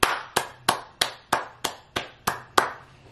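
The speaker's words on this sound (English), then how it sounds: "round of applause for the females" Nine slow, evenly spaced sharp claps, close and crisp, given as a round of applause for the female rappers in a hip-hop freshman cypher discussion, with no talking over them.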